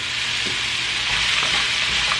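A stir-fry vegetable mix sizzles loudly in melted butter, a dense, even frying hiss close up with soft scrapes of stirring throughout.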